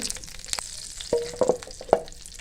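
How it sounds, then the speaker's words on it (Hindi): Hot oil sizzles softly with a few sharp crackles and pops as spices hit the pan for a tempering, close by and without talk. "तड़का हमारा तैयार हो रहा है।"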